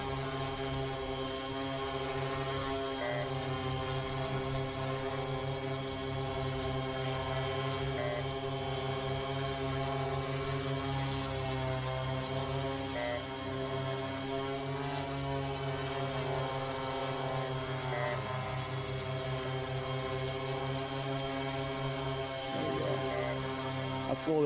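A large multirotor drone carrying added weight hovers steadily outdoors, its motors and propellers producing a sustained layered buzzing drone with shifting tonal harmonics at moderate, constant loudness.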